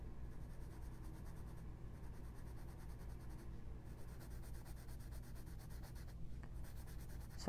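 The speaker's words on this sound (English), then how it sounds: "I'm just going to pencil this in really lightly." A pencil moves lightly over paper during a sketch of a Borzoi, making a soft, continuous scratchy rubbing that is very faint and close, with no talk.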